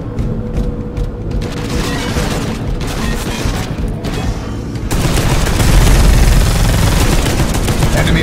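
Heavy stubber gunfire in Space Hulk Deathwing: sustained loud automatic bursts with deep booms, intensifying after the midpoint into a dense continuous barrage.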